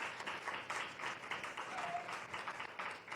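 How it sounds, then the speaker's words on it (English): Audience applause at an NAACP candidate forum for Jacksonville municipal elections, a sustained crowd clapping at moderate volume for a few seconds, fairly even with slight swells. "Let's give him a round of applause."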